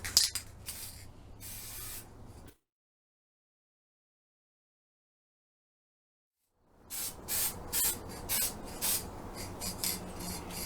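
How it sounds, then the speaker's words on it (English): Spray paint hisses onto Dollar Tree glass bowls in two bursts, a long steady spray, then a pause of silence, then a series of short rhythmic puffs, close and fairly quiet. "now it's time for one last spray of the bowls"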